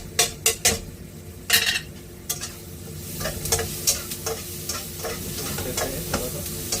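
Fish fried rice with masala being stirred and fried in a pan: a steady sizzle runs beneath repeated sharp scrapes and clinks of the utensil against the metal, close and fairly loud, with no talking.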